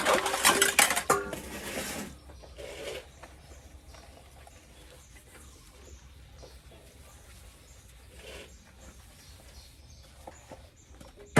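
Dishes, pots and cutlery are washed in a Thai home kitchen, starting with a burst of loud clattering and scraping over the first two seconds, then sparse soft clinks and knocks that continue with no talk.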